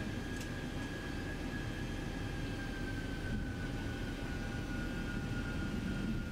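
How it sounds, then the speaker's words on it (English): A steady low mechanical hum with a faint high whine inside a simulated Boeing 737-800 cockpit in X-Plane 11, constant and even throughout, no voices. "The sounds are amazing in this plane."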